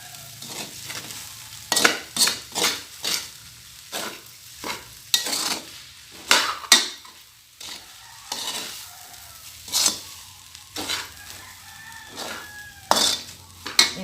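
Fried rice with corned beef being stirred in a pan, with repeated irregular scraping strokes of a utensil over a steady sizzle, and a rooster crowing faintly in the distance near the end.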